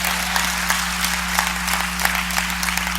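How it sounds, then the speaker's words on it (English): A church congregation clapping together, a steady dense patter of many hands under a low constant hum, sustained and fairly loud throughout. "I don't want y'all just be clapping for clapping's sake"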